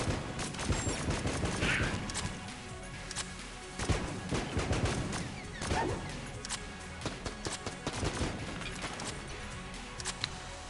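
Rapid video-game gunfire from Enter the Gungeon, a powerful weapon firing in repeated bursts of sharp shots amid game effects and music, loud and close throughout.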